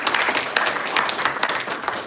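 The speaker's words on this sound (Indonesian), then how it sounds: "Terima kasih dan tepuk tangan untuk Pak Wali kita dulu" A crowd at an evening awards ceremony applauds the mayor, a dense, continuous patter of many hands clapping at once, steady and fairly loud throughout.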